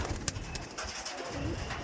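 Tournament-flying pigeons coo softly and continuously at close range in a short, steady burst.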